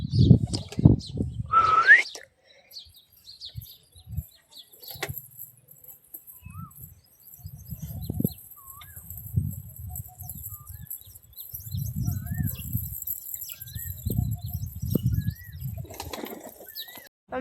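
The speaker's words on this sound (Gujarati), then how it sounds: "અત્યારે છે ને બધા કબૂતરને ખોલી નાખ્યા છે" Pigeons released from their coop, with a burst of flapping wings near the start followed by repeated low soft coos and a few faint chirps, close by.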